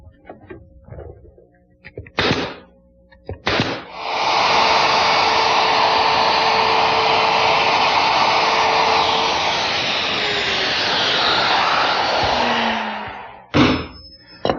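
A plunge router with a template-following bit mortises a cutout on the underside of a wooden butterfly table, a loud steady whine running about nine seconds, bracketed by short thumps and a brief restart near the end.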